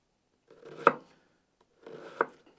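A knife dicing onion on a cutting board: two short bursts of scraping, rocking cuts, each ending in a sharp tap of the blade on the board, close and fairly quiet with no talk.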